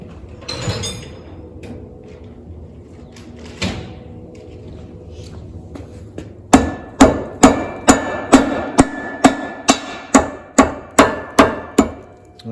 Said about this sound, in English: I'm gonna grab my mallet and we'll go ahead and drive that in place.